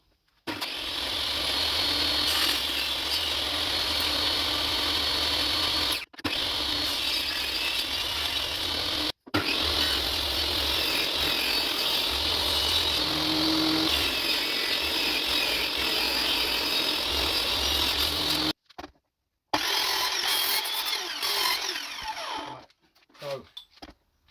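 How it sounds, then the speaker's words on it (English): Power sander working a wooden pallet table top flat, a steady loud grinding whir that runs continuously with a few brief stops and a final pause near the end. "So I'm just going to spend time and just sand this flat."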